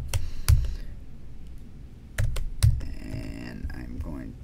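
Computer keyboard keys typed on a macOS machine in short bursts of close, crisp clicks, with gaps between the clusters and a faint background voice.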